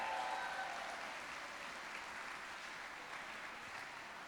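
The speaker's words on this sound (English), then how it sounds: "let's give everyone who has given so far a big round of applause." Quiet, steady applause from a gala fundraising audience, heard as a soft wash of clapping that stays even from start to finish without voices on top.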